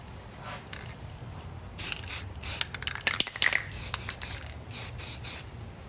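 Repeated short hissing bursts of spray paint onto thick wood, about a dozen quick blasts in an uneven rhythm, close and fairly loud, with a faint rattle in the middle.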